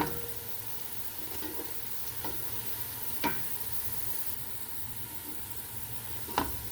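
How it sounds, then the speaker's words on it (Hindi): Onions sizzling as they brown in a pan for chana pulao, a steady soft frying hiss broken by a few sharp scrapes and clicks of a spoon stirring, quiet and close with no talking. "ये देखिए प्याज जो है वो ब्राउन होना शुरू हो गई है। इसको अच्छी तरह से ब्राउन कर लेंगे।"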